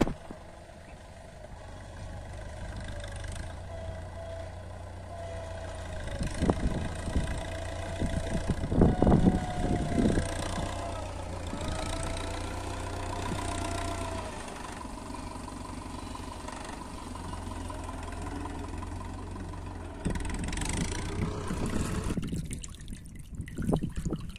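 An engine runs steadily nearby with a constant low drone throughout, joined by trickling water and a few scattered clunks at a remote rural site.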